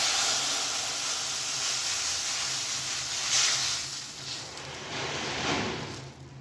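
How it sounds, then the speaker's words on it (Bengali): Water poured into a hot pan of oil after frying small mourala fish for a home-style Bengali fish and brinjal dish hisses steadily as broadband steam noise, fairly loud and continuous, with brief surges, without talk. "কড়াইয়ে দিয়ে দিলাম জল,"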